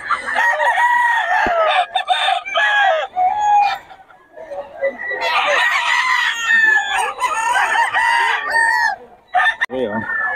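Roosters at a busy Bocaue poultry market crowing and clucking close by, several overlapping cock-a-doodle-doo calls and sharp clucks filling the air almost continuously, with a few brief pauses and faint voices mixed in.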